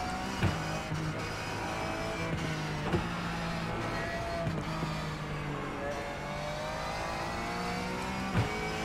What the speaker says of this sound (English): the mixing of the car sounds is so wildly different in this